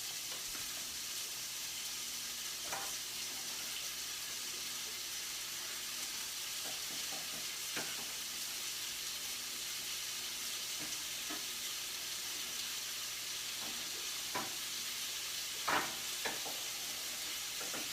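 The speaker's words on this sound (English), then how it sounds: "I throw in my my bacon. And it's already hot. Hear it?" Bacon sizzles steadily in a hot pan, a constant crackling hiss with occasional sharper pops and faint clinks.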